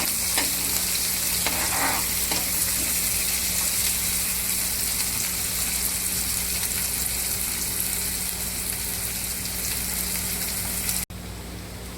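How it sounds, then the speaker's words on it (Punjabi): Onions frying in hot oil with cumin and garlic in a pan, base for a green chilli curry cooked in milk; a steady, close, loud sizzle runs throughout with occasional stirring, cutting off abruptly near the end. "ਪਹਿਲਾਂ ਪਿਆਜ਼ ਨੂੰ ਭੁੰਨ ਲਾਂਗੇ"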